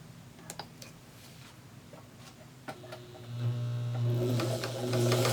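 A sewing machine stitches along rows of a quilt block: a few scattered clicks and taps, then the motor starts into a steady, loud running hum that continues to the end.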